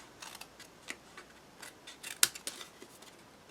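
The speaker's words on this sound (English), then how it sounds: "I'm just going to use my scissors." Scissors snipping through small paper pieces for a craft windmill, several quick crisp cuts scattered across the moment with one sharper snip standing out, close and fairly quiet with no talking.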